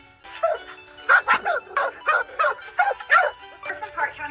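A dog at an animal shelter barks in a quick series of about a dozen short, sharp yips and woofs, close and fairly loud against a quiet background.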